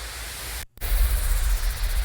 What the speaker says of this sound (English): the reverse sweeps